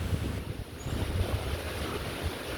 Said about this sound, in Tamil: செம்ம காற்று ஃப்ரெண்ட்ஸ்.